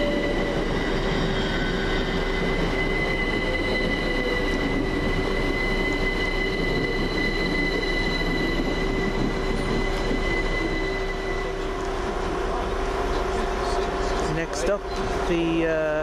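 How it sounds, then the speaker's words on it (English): A London Overground class 378 electric train on a Richmond to Stratford service moves through Gospel Oak with continuous loud rumble, tonal motor whine and squealing wheels, close by, with some rattling near the end. "Next up, the slightly delayed 1440 London Overground service from Richmond to Stratford"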